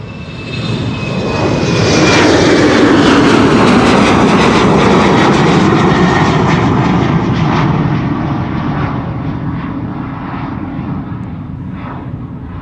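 KLM jet airliner departing Amsterdam Schiphol's Polderbaan runway for Aalborg: a loud, close jet roar with a whining tone that builds quickly, peaks around two to seven seconds, then recedes into a fading rumble.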